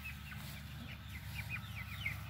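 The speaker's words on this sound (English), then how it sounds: "These are our Cornish cross chickens." A flock of Cornish cross chickens clucking and peeping steadily together, a busy continuous chatter of calls at moderate volume.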